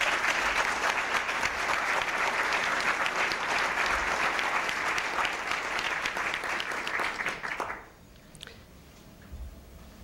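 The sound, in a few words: audience applause at a press club luncheon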